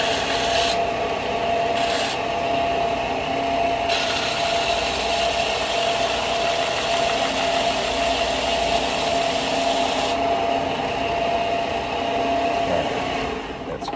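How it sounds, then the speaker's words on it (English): A belt sander runs loud and steady close by, grinding against a workpiece while a holster for a Sig P365XL is made, with pitch shifts as pressure changes and no talking. "I gotta hit the belt sander real quick."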